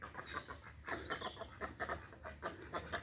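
Tokat chickens clucking in a garden, a run of short, rhythmic clucks repeating in quick bursts, faint and fairly close, with no talking.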